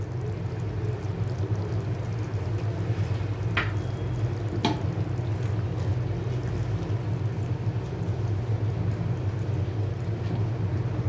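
Okra simmering in a Bengali yogurt gravy for doi bhendi, a loud continuous bubbling sizzle that runs steadily from start to finish, broken by a couple of sharp spoon clinks against the pan.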